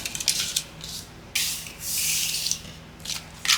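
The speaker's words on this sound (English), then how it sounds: "I'm going to fold them in half the long way" Coffee-dyed paper pages are folded in half lengthwise, making close, crisp rustles and a longer sliding rub as the crease is pressed, heard alone with no speech.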